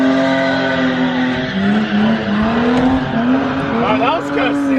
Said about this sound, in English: Whenever he dumped it, the tires didn't really spin.